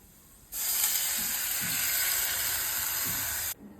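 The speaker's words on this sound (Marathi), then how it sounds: "आता आपण यात पाणी घालणार आहोत" Water poured into a hot pan of gram-leaf greens with moong dal, turmeric and red chilli powder, a steady loud hiss and splash lasting about three seconds, starting and stopping abruptly, with no talk.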